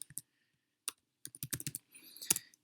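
Typing on a computer keyboard, a few quick key clicks, a pause, then a denser burst of close taps, alone in a quiet room.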